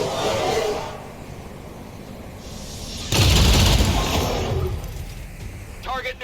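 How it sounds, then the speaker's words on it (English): Rapid Fire gunshots strike an Archon in XCOM Long War of the Chosen: a sudden loud burst of gunfire that lingers as a dense roar, with speech under the firing. "we'll go ahead and drop a rapid fire on this Archon"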